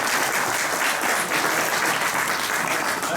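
Audience applause at a Tuskegee Airmen chapter panel at the Virginia War Memorial, a steady, dense wash of clapping filling the room for about three seconds without a break.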